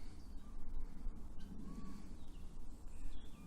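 Harsh caws from a guinea fowl outdoors, a few scattered calls that sit faint over steady low background noise.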